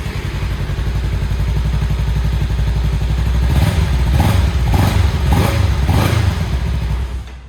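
A 2025 Kawasaki Ninja 300 twin-cylinder motorcycle engine idles close by with a steady thrumming beat, then is revved several times in quick bursts before settling back and cutting off.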